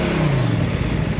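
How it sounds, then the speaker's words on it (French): A CFMoto NK800 motorcycle engine rumbles loud and close at night in Paris, a steady mid-pitched drone with a slight falling pitch. "Ce qui est bien avec ta moto, c'est que tu peux faire du bruit et éloigner tout le monde."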